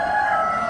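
A rooster at an Amish animal auction lets out a sustained crowing note, loud and near, filling the short moment without any talk.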